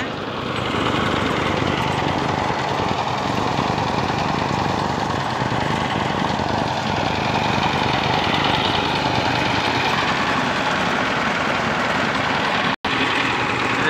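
A paddy threshing machine runs continuously at a rural rice harvest as bundles of rice are fed in, a loud, dense mechanical roar and clatter holding steady close by, briefly cutting out near the end.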